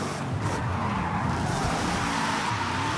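A race car in the video game Forza Horizon 5 skids continuously around a custom karting event track, tires squealing over a steady engine drone for the whole stretch, loud and close with no voices.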